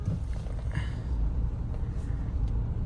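A Mahindra Scorpio N SUV, said to have a second-gear problem, is driven steadily, with a constant low engine and road rumble filling the cabin from start to finish.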